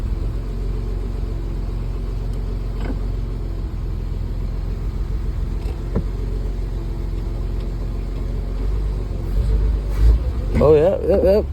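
A 1973 Mercedes 280C with no working brakes idles and creeps backward in reverse, a steady low engine rumble running throughout, rising slightly near the end with a brief whir as people talk over it.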